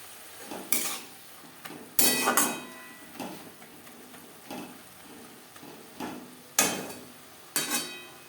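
Pea greens (motor shak) being stirred in a pan over high to medium flame: a series of sharp spatula scrapes and knocks against the pan, irregularly spaced, over a soft background sizzle.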